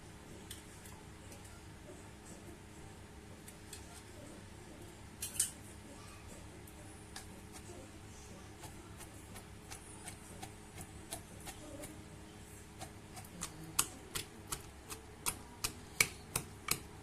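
Green chilli, garlic and raw mango are pounded into a coarse thecha, giving a run of sharp, knocking strikes that start sparse and grow into a steady, louder rhythm near the end.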